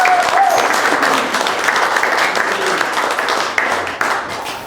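An audience at a community talk about Sopchoppy applauds a speaker: steady, dense clapping that fills the room and slowly eases off over a few seconds, with no voice over it.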